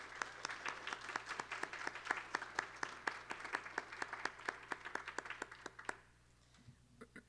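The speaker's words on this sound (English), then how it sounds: "Let's give her a round of applause." Applause from a university event audience for a speaker coming on stage, a steady, fairly distant patter of many hands clapping for about six seconds before stopping abruptly into quiet room tone.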